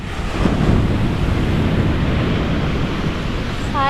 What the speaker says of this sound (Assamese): বহি সাগৰৰ ঢৌ চাই আছো ইমান ধুনীয়া